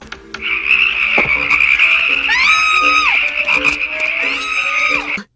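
A dense chorus of frogs croaks and trills continuously, loud and close, with overlapping calls forming a steady, pulsing drone.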